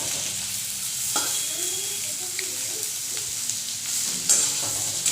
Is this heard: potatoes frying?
yes